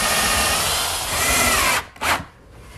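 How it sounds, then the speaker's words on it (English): A power drill pre-drills holes in wood for 1 5/8 screws while building a chop saw station, a steady whirring run that stops, then a short burst of drilling near the end, close and alone. "Now I'll just pre-drill some holes for some 1 5/8"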